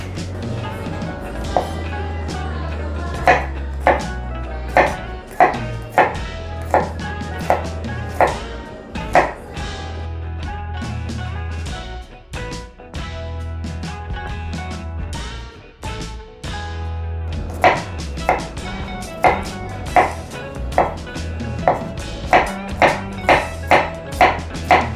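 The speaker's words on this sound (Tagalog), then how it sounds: "Tapos na po tayo maghiwa ng bawang at sibuyas" Garlic and onions are chopped on a board for dinuguan. Quick runs of sharp knife taps come in bursts, with a quieter pause in the middle before the rapid chopping resumes.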